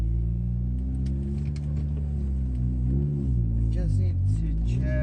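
A Mitsubishi Eclipse 2G engine idling high, near 2,000 RPM, with a steady, loud harmonic drone that wavers slightly in pitch, heard close up with people talking over it.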